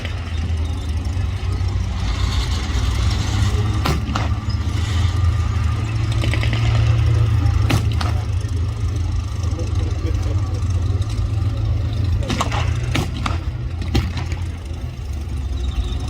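Heavy German tank engines rumble throughout a Tiger Day battle reenactment, a loud steady low drone with sharp gunfire-like cracks scattered through it and voices in the background.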